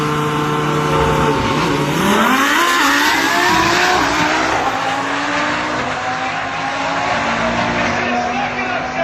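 Two Audi race cars accelerating hard side by side in a hill climb, engines rising in pitch through the gears, loud and close, with a commentator talking over them.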